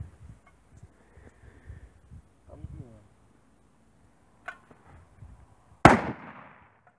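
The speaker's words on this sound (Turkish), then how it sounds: "yeni tüfek aldım. Asker arkadaşımla geldik atış yapmaya." A new rifle fires one loud, sharp shot at target practice, following a stretch of quiet talk and small noises, with a ringing tail after the report.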